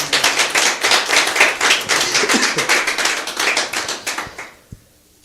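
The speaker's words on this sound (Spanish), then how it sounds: "le damos un aplauso a los que nos van a estar escuchando a través de las redes sociales" Applause from a church service congregation, steady clapping for about four and a half seconds that thins out and stops, with one last clap before quiet.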